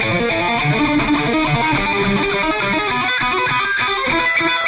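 An electric guitar with some distortion plays a steady stream of notes up and then down the neck, one string at a time, loud and continuous with no talking.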